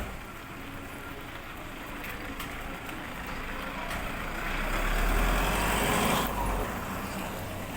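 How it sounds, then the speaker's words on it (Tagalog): A vehicle approaches and passes along a road on a rainy day, its engine and tire rumble building to a close, loud peak before easing off, over steady background noise. "May sasakyan."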